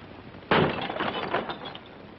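Hammer smashing a glass pane: a sudden sharp crash followed by a scatter of tinkling, falling shards that trails off over about a second and a half.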